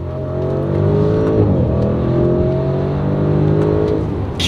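A 2021 Audi RS6 Avant accelerating hard from a standing start, a loud steady engine roar rising through the gears, heard from inside the car with no talk.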